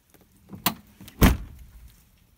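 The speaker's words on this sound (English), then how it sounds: "Solid closing doors." Doors of a 1992 Land Rover Defender 110 station wagon shut with two solid thuds, a lighter one first and then a heavier, louder slam, close by with no talk.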